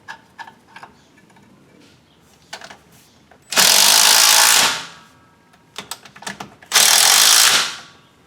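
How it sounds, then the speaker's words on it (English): Power tool driving a bolt into a Jeep Cherokee transmission mount: two loud sustained whirring bursts of about a second each, separated by clicks and handling clatter, with no talk. "And then we can thread in our first bolt."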